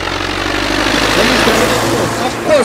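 At a tractor race show, a local tractor's engine runs with a steady low droning rumble, while people talk over it throughout.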